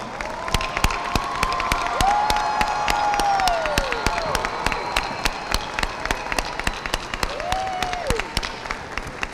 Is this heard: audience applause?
yes